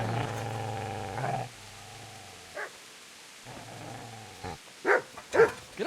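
A dog in the game Kingdom Come: Deliverance growls low and steadily, then breaks into a few sharp, loud barks near the end.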